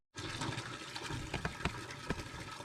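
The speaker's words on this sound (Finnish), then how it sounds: "mulla on tarkoitus ensin pyörittää vettä läpi tuosta ylemmästä kennosta" Water flows steadily through the upper coil of a homemade pool water heater, a continuous close rushing and gurgling with small irregular splashes and bubbling spikes throughout, no voices.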